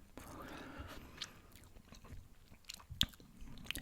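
Gum being chewed close to the microphone in a quiet room, soft wet smacks and clicks at an irregular pace, with a few sharper snaps, faint and intimate.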